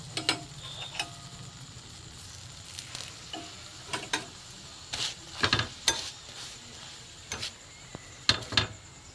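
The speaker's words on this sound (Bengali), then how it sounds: "অল্প অল্প তেল দিয়ে আমি ভাজবো এটাকে।" A paratha fries in a little oil on a griddle, giving a soft steady sizzle broken by scattered light clicks and taps from turning or pressing the bread, with no talking.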